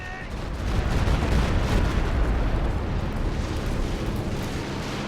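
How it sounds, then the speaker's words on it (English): A Stuka rocket barrage pounds the ground in Company of Heroes 2, a heavy sustained rumble of overlapping explosions that swells after the first half-second and stays loud and dense to the end, with no voices. "More and more Stuka rockets."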